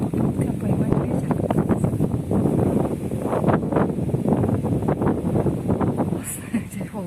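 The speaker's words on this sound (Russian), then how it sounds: "это попытка поймать ветер." Gusty night wind buffets a phone microphone outdoors, producing a loud, continuous rumbling roar with rough swelling gusts for the whole stretch.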